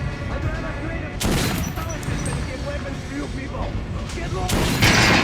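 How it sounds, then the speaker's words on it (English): Rapid gunfire from an armored-enemy fight in the video game Metro: Last Light, sharp bursts of shots with booming impacts and clanking mechanisms, loud and dense over a busy game soundscape, with a voice heard faintly beneath. "Now shoot sharply."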